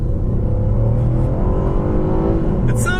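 A car engine revs hard at full throttle, its pitch climbing steadily as it accelerates, close and loud.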